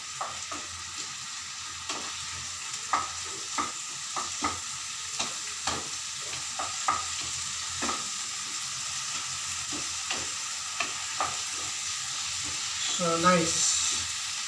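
Poha with roasted peanuts and vegetables cooks in a pan under a soft sizzle, punctuated by a regular series of spatula taps and scrapes as it is stirred; a voice speaks briefly near the end.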